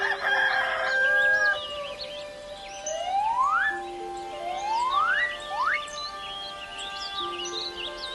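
A hen clucks and gives a few rising, squawking calls, close and clear over a steady low background hum.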